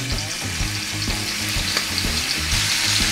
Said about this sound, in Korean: 이거를 이제 한번 기름에다가 튀겨볼게요.